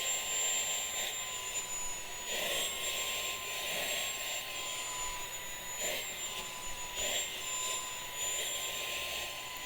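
A Tineco Floor One S5 cordless vacuum runs with its crevice tool attached, cleaning steps in a steady high-pitched whine with a constant airy rush that swells and dips slightly as the nozzle moves.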